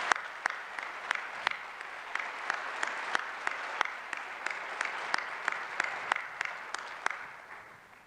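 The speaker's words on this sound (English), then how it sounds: "Let's give them a round of applause" Audience at a college of science pre-commencement ceremony gives a round of applause, steady crowd clapping with sharp individual claps standing out near the mic, holding even before tapering off at the end; no speech over it.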